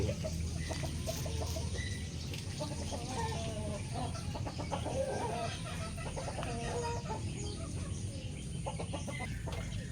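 White Leghorn chickens clucking steadily in a busy coop on a farm, several birds calling at once over constant low background noise, no talking.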